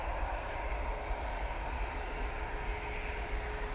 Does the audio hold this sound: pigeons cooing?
no